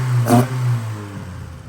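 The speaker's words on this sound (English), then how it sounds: "And it revs like a chainsaw now." A 1979 Fiat 124 Spider 2000 with twin 44 IDF carburetors gives one short, sharp rev near the start, then settles back into a low idle, heard up close with no talk.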